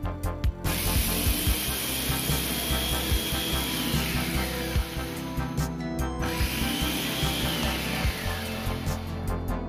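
A Mitochiba CH 200 food chopper crushing ice on level 2: a loud, steady motor whir under constant gritty grinding and rattling of ice chunks, with one short pause partway through.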